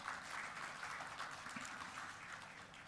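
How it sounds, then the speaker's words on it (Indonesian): A crowd claps at a toll road groundbreaking ceremony for Pak Tito, steady applause lasting a few seconds, fairly faint and somewhat distant, with no voices over it. "tepuk tangan untuk Pak Tito"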